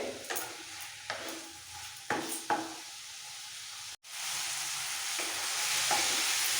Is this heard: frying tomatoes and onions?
yes